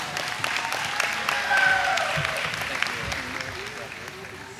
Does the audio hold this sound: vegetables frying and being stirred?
no